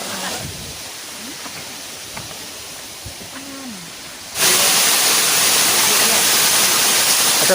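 Small waterfall near Jagdalpur, Chhattisgarh, with water falling from several directions. After quieter background with a few voices, a loud, close, steady rush of falling water starts abruptly midway and continues alone.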